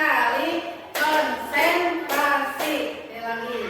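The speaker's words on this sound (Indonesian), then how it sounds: "Tepuk 4 kali," A group of teachers and staff in a classroom clap hands in a short patterned sequence, with several distinct sharp group claps spaced across a few seconds, while a voice speaks between them.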